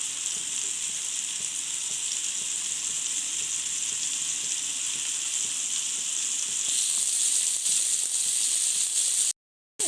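Prawn tikka fries in oil in a pan, giving a steady bright sizzle that swells louder near the end, with faint clicks beneath and no talking, before cutting off abruptly.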